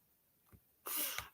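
A single sneeze bursts out near the end, preceded by a brief sharp intake of breath, fairly quiet overall with no speech around it.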